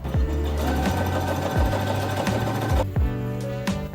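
A sewing machine stitches with elastic thread at its longest stitch length, running in a fast, steady mechanical chatter with a brief pause and restart partway through, close and loud.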